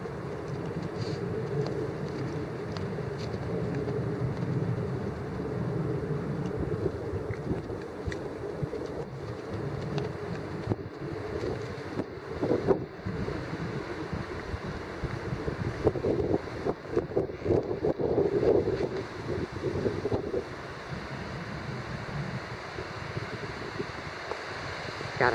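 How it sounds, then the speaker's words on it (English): Strong gusting wind buffets the microphone outdoors on a very windy day, a continuous low rumble that swells and roughens in bursts through the second half, with no voices. "this is one of the windiest days we've had."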